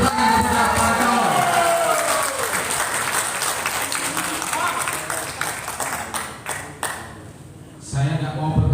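A crowd at a village head candidates' vision and mission event bursts into sustained applause with some cheering, loud and close, fading slightly toward the end before clapping picks up again.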